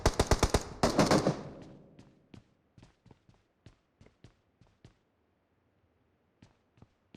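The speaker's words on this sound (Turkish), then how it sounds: "Hala aynı yerden sıkıyorlar ya." Gunfire in PUBG on the Erangel map: a rapid burst of automatic shots opens, followed by scattered single and paired distant shots spaced out over several seconds.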